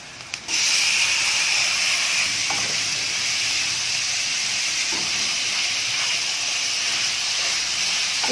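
Minced mutton hitting hot ghee in a pan gives a loud, steady broadband sizzle that bursts in after a brief quiet start and hisses on unbroken, with faint scraping clicks scattered through it and no talk.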